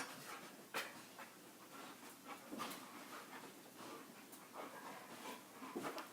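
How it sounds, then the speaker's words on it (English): Dogs panting and whimpering in the background indoors, a faint, continuous breathy panting with occasional soft whines and small bumps, heard distant and low without talk. "Excuse the dogs in the background."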